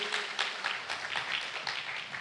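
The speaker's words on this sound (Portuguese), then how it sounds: "Gostaria de uma salva de palmas para os nossos convidados aí também" Audience applause for talk show guests: a soft, steady patter of many hands clapping, fairly distant and even throughout.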